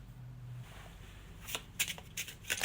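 A deck of oracle cards being shuffled by hand, heard as quiet soft rustling that turns into a few sharper riffling bursts toward the end.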